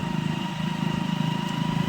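A motorcycle carrying riders home drones steadily with a close, evenly pulsing engine note throughout, and no voices are heard.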